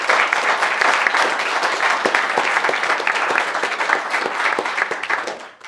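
An audience at a mock board meeting breaks into steady, loud applause, dense clapping carrying on evenly for several seconds before tapering off at the end.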